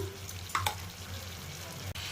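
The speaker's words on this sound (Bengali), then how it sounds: "এবার চিকেনটাকে আমি এটা কড়াইয়ে দিয়ে দেবো, নিয়ে কিছুক্ষণ কষবো" Chicken pieces fry in a kadai with a soft, steady sizzle, broken by a couple of brief scraping clinks of a spatula stirring them; fairly quiet and close, without talk.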